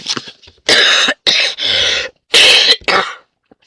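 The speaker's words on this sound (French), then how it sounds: "Je tousse encore un peu" A person coughs loudly several times in quick bursts, harsh and close, with short pauses between the fits.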